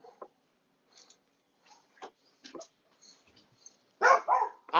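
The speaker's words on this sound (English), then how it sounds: "I was wondering why that dog was barking" A dog barks a few times in short, separate bursts across quiet gaps, then gives a louder, denser run of barks at the end.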